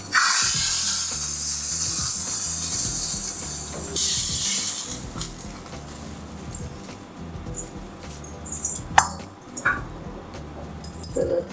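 About a teaspoon of mustard seeds hit hot oil for tempering beside a pot of rasam, giving a loud steady hiss and crackle that fades after a few seconds and leaves scattered sharp pops.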